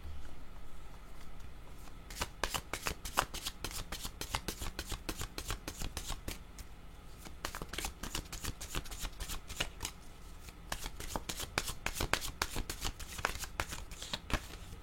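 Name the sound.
cards being shuffled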